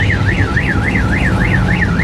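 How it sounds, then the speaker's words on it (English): A car alarm at a classic car show and swap meet gives off a loud, close, wavering electronic wail that rises and falls in a fast regular cycle, with nothing else over it. "more car alarms"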